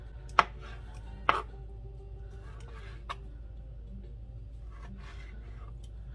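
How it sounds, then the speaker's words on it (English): Knife chopping salt pork on a cutting board, a few scattered sharp thunks close by, two stronger strikes early and fainter taps later, with soft background noise. "got all my salt pork cut up"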